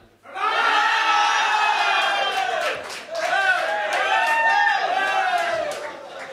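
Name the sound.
crowd shouting an answer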